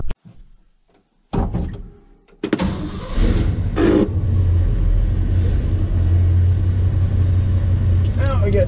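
A 1968 Ford F100 pickup truck cranks briefly, catches and fires up, then settles into a steady, loud, close idle and driving rumble that continues to the end.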